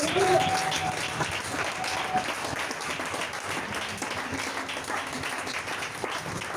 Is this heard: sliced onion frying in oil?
no